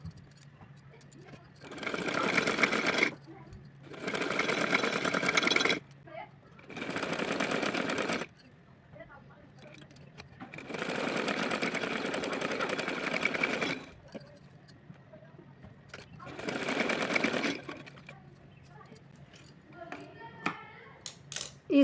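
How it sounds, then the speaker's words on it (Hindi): Sewing machine stitching cloth for a small Laddu Gopal dress, several rapid whirring runs of a few seconds each separated by quiet pauses, close and moderately loud. "अब इसके ऊपर रख करके इस तरह से हम सिलाई लगाएंगे।"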